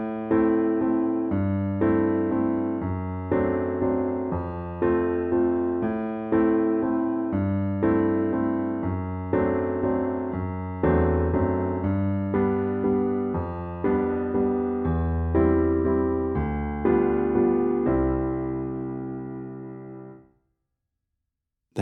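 A solo piano plays the instrumental solo from a song: a steady, rhythmic run of chords and melody lasting about twenty seconds, ending on a sustained chord that fades to silence.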